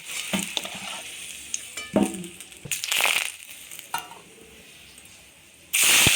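Onion and garlic frying in hot oil in a Bengali kitchen while cooking chicken curry, with bursts of sizzling and stirring scrapes that rise and fall, and a loud sizzle at the end.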